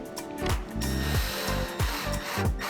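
Wood screws driven into a wooden shuttle with a power driver, heard as a close, repeated ratcheting whir that rises and stops in several short bursts.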